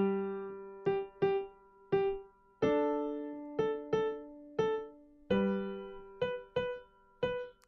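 Piano tapping out a dotted-quarter-and-eighth-note rhythm figure, a string of struck notes in long-short pairs, each one decaying, played clearly and fairly softly with no voice over it.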